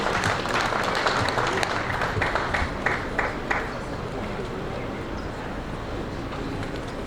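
An audience at a university research week opening for an innovation hub applauds, dense clapping strongest at the start that thins and fades over several seconds, with voices mixed in.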